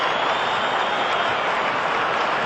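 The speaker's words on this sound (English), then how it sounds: "A roar from the crowd." A big cricket crowd roars and applauds steadily after a boundary, a dense, continuous wash of clapping and cheering that holds at an even level throughout.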